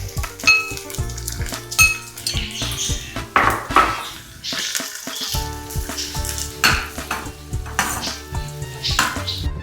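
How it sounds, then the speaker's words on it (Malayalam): Ginger frying in hot coconut oil gives a steady close sizzle, with frequent clinks and scrapes of a utensil stirring against the pan throughout. "ആദ്യം തന്നെ വെളിച്ചെണ്ണയിൽ നമ്മൾ ഇഞ്ചി വറുത്തെടുക്കാം"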